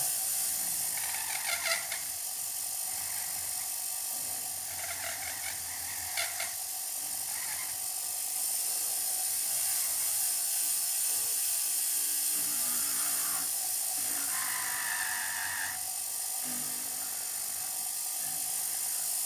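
A rotary file grinds steadily around the carving of a signet ring, giving a continuous high whirring, drill-like buzz with slight pitch shifts and brief ratcheting accents, close and loud throughout, with no voices.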